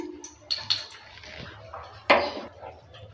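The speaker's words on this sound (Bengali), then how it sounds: "পাঁচ ফোড়নটা দেওয়ার পর নেড়ে চেড়ে নিচ্ছি" A utensil stirs panch phoron spices in a cooking pan for amra chutney, giving a few sharp clinks and scrapes of metal against the pan, close and fairly quiet, with one louder knock partway through.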